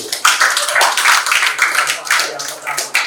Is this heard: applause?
yes